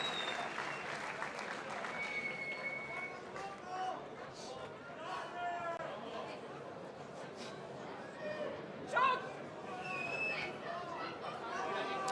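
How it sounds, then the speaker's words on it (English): Sustained crowd applause and cheering fills a Muay Thai fight venue going into the fifth and final round, steady and dense throughout, with a brief louder swell near the end and voices talking over it. "let's have a huge round of applause for the 5th and final round"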